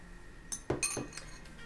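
A small measuring spoon clinks against a bowl or container while ingredients for an apple crumble are measured in a kitchen, a few faint, light metallic taps in quick succession.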